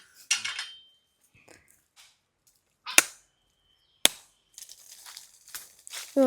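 Sharp cracking blows strike a husked coconut a few times amid scattered rustles and small knocks, close by and otherwise quiet.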